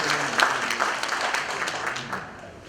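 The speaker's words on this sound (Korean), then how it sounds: "박종경 씨 박수 한번 해주시죠." Crowd applause fills a regular delegates' congress meeting, a dense, steady burst of many hands clapping at close range that slowly thins toward the end.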